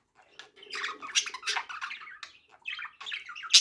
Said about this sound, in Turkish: Ama işte muhabbet kuşunun kurlaşması ve bunlar çok iri kuşlar arkadaşlar.